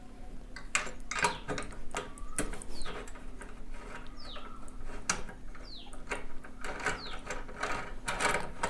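A ratchet wrench loosens a 10 mm bolt on an inverter, with a close, steady series of sharp clicking strokes throughout, while faint bird chirps sound in the background.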